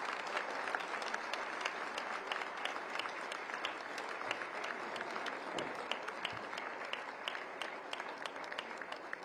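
An audience applauds after an address at the 55th convocation of the Indian Institute of Foreign Trade. The clapping is dense and sustained, a continuous patter of many hands at moderate distance with no talk over it.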